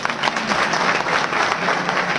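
Dense audience applause at a Hindi political rally, steady and loud throughout with no pause, filling the whole short stretch.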